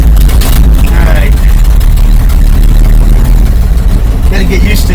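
A 1948 Chevy engine idles with a small leak at the exhaust manifold, a steady low rumble running throughout while people talk over it.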